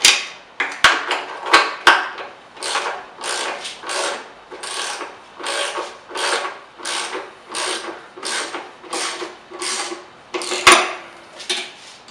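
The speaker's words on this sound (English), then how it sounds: "We'll tighten down those four 10mm bolts, hold it in place" Ratchet wrench tightening four 10mm bolts on a throttle body of a Dodge 3.5L V6 LX engine, a steady run of close, even clicking strokes with a couple of sharp metallic knocks, no voices.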